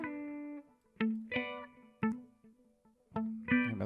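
A female vocal in a music mix, treated with added reverb, sings short separate phrases whose notes ring out with lingering tails between them, clear and moderately loud with no speech.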